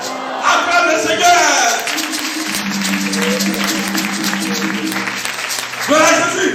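A church congregation applauds at a Pentecost service, with broad steady clapping and crowd noise carrying through, sustained organ or keyboard tones underneath, and voices rising near the start and end.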